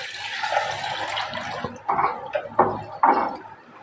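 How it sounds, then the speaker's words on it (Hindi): Water is poured in a few bursts into a cooking pot for kadhi, splashing and gurgling close up, the pours coming in short surges separated by brief pauses. "अब हम इसके अंदर ढेर सारा पानी डाल देंगे"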